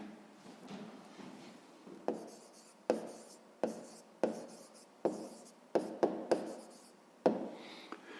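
A pen writes a maths answer by hand on paper, close up, in a series of short scratchy strokes at an uneven rhythm, each starting with a small tap.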